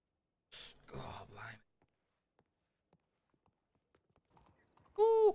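Faint, sparse hooves of a horse clip-clop slowly in Red Dead Redemption 2 after a short burst of talk, with a loud, harmonic whinny-like call rising at the very end.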